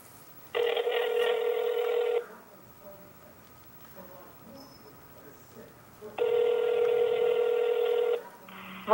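Telephone keypad DTMF tones sound as a number is dialed to place a call, in two bursts of rapid beeps lasting about one and a half to two seconds each, separated by a quiet gap, with a third burst starting at the end.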